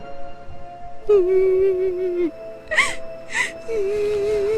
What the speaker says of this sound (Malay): ada dengar bunyi menangis halus dekat ruang dapur